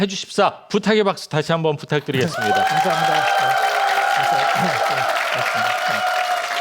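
Someone speaks briefly, then steady applause from an audience at a Korean televised talk show swells and continues at full loudness, with a held tone ringing beneath it.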